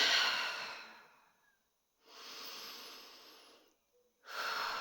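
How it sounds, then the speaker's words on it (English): Slow, deep breaths taken close to the microphone, each a soft airy inhale or exhale separated by short silences, repeated three times. "right now is a good time to just take a few deep breaths"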